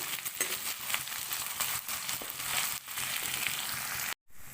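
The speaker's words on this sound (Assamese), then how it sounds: "ভালকৈ অকণমান আদা আৰু নহৰু গোন্ধটো যোৱালৈকে অকণমান ভাজি ল'ম।" Ginger and garlic paste frying in a pan for paneer sabji, a loud, close crackling sizzle with scraping stirs, running steadily before a brief cut near the end.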